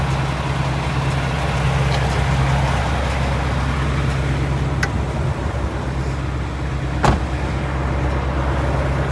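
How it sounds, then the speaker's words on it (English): A Peterbilt 579 truck rumbles steadily at low speed while being parked, its engine drone loud and continuous, with a couple of brief clicks or knocks near the end. "I gotta park the truck there."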